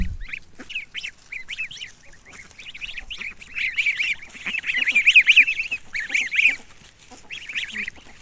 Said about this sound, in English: The goslings are very chatty, and they only got quiet a little when they are resting.